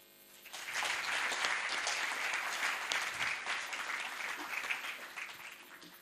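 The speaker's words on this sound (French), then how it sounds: "Applaudissements nourris pour Docteur Dosso" Sustained applause from a seminar audience at a research presentation, a steady wash of many clapping hands that swells quickly, holds for several seconds and eases slightly toward the end.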